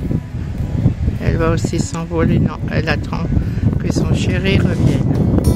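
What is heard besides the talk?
wind blowing on the microphone outdoors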